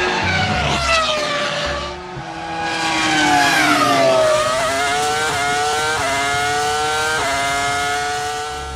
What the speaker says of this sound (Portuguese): Agora um carro de Michael Schumacher, a Ferrari F2004.